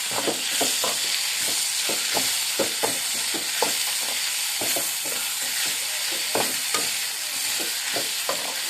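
Chopped tomatoes being stirred into frying beef masala, a steady close sizzle broken by frequent scraping spoon strokes in an irregular rhythm, with no talking.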